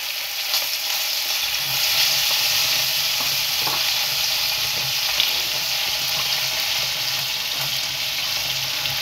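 Chopped onions sizzle and fry in hot oil alongside browned kofta balls in a pan for kofta fried rice, a steady, dense crackle that holds at an even level throughout, with occasional stirring and no talk.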